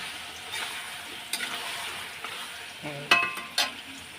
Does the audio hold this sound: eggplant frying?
yes